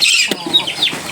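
Chickens cluck close by in a busy run of short calls and squawks, with no talking.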